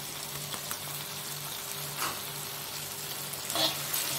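Chili spice paste with sugar, salt and broth powder frying in a pan for spicy chicken feet, a soft continuous sizzle with a few scraping stirs, fairly quiet and without speech.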